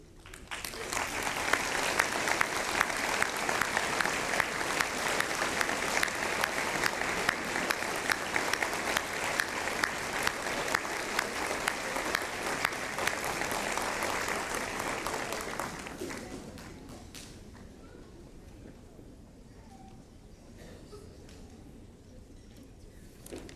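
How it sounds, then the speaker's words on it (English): A graduation ceremony audience in a large hall gives sustained, dense applause for the faculty for about fifteen seconds, then it thins to scattered clapping and room murmur. "I ask the faculty now to stand so we can applaud your marvelous service."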